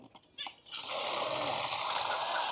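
Water gushing from a village tap in rural Tamil Nadu into a vessel, a steady loud rushing stream that starts abruptly after a few faint knocks and continues unbroken.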